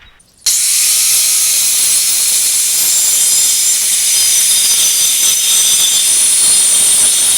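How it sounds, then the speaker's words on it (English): A power saw cutting notches in wooden boards for an elevated raised garden bed, starting abruptly after a brief quiet moment and then holding a loud, sustained high-pitched whine and hiss. "Then we'll flip these boards over and cut the other side and then take that notch out."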